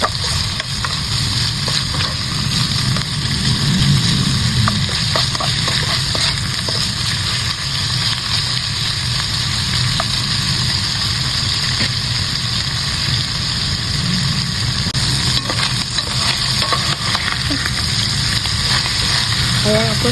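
Ham browning in a frying pan gives a steady, close sizzle that runs unbroken throughout, with faint clinks and a low background hum, and no speech over it.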